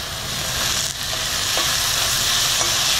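Tomatoes going into frying onions in a pan while cooking a dhaba-style soyabean curry, giving a steady, close sizzle with stirring scrapes throughout, no talking.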